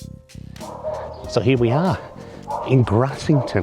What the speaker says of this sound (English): You can hear the dogs barking now.